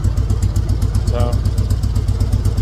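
A 2003 Harley-Davidson Road King engine idles after a petcock change, with a steady, loping rhythmic pulse and light mechanical rattle close up, and a voice speaks briefly over it.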